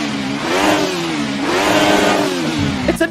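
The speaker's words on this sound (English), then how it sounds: "What an absolute Italian animal." An Alfa Romeo 155 TI V6 touring car in Assetto Corsa on the Nordschleife revs hard, its engine note climbing, dipping and climbing again in a loud, continuous howl with a brief gear-change stutter at the end.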